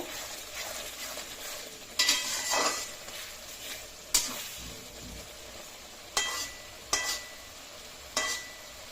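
Parshe fish being stir-fried with ground spices, a soft low sizzle punctuated by periodic scraping strokes and light metallic clinks of a spatula against the pan, fairly quiet and close.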